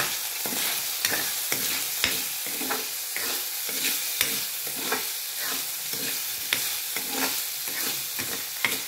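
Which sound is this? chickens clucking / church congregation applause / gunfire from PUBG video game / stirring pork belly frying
stirring pork belly frying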